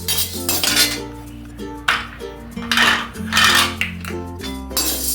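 Chana dal dry roasting in a pan for idli podi, with a utensil scraping and stirring through it in repeated clinking, rattling strokes over a steady low background tone, fairly close.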